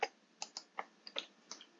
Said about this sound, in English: Next, you will click on the search icon